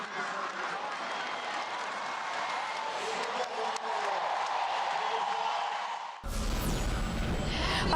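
A stadium crowd at the 2013 Kazan Games athletics cheering a Russian 1-2 finish, a dense, sustained roar of applause and cheers that continues unbroken, with a sharp shift in tone near the end.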